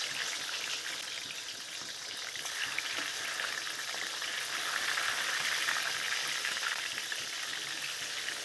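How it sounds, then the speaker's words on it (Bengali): Katla fish pieces fry in hot rice bran oil, giving a steady, dense sizzle that holds close and even throughout with no voices. "তেল গরম হয়ে গেলে এবার একে একে মাছগুলো আমি ভেজে নেব"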